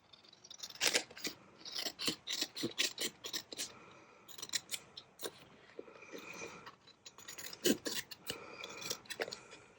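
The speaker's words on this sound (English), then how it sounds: "So I'm just going to cut down here." Scissors snip repeatedly through paper while crafting a small ephemera holder, crisp close cuts in irregular clusters with soft rasping rubs between them and no talking.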